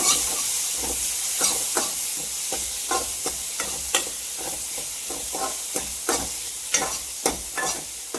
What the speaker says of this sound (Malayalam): തക്കാളി ഇട്ട് കൊടുക്കാം. തക്കാളി ചെറുതായിട്ട് വേകട്ടെ കേട്ടോ.